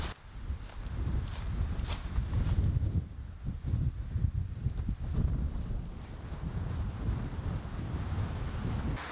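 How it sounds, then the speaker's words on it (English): Gusty wind buffets the microphone with a low, uneven rumble that swells and eases throughout, with no talking. "Ooh, it's windy!"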